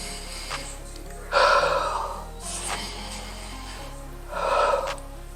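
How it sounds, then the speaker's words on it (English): A person breathes slowly in and out through one nostril during a deep-breathing exercise, with two strong, airy inhalations or exhalations spaced a few seconds apart over a steady low hum. "you're just gonna breathe in and out in one nostril"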